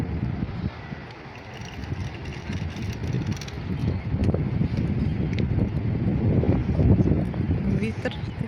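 Strong wind blows across a wet sandy North Sea beach at Middelkerke, Belgium, near where a kite-drawn rider skims toward the water; a steady, rough rush of gusts buffets close to the microphone, swelling louder toward the end.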